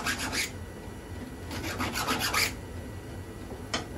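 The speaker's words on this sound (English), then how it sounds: "a file like that, just pulling it back and forth" A metal file rasps back and forth across a chainsaw chain in short bursts of strokes, close up, separated by pauses, with one final quick stroke.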